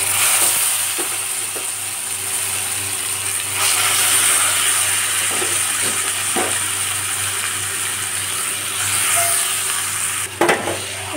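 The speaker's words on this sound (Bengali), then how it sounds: "এটা নেড়ে এটার মধ্যে আমি এবার মাংসটা দিয়ে দেব" Mutton hits hot oil with Kashmiri chilli powder and turmeric, giving a steady close sizzle punctuated by a few scraping stirs and a knock of a spoon near the end.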